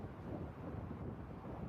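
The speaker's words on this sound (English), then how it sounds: "it's a lot windy here" Wind buffets the microphone at an outdoor cricket ground during a Master Cricket USA Nationals match, a steady low rumbling roar that stays loud and unbroken throughout.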